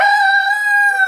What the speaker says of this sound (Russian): петухи перекрикиваются друг с другом